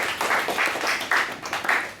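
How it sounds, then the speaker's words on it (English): Students in a maths class give a brief round of light hand clapping. It comes in a few uneven bursts, close by and fairly faint, and lasts about two seconds. "A round of applause for both of them, please."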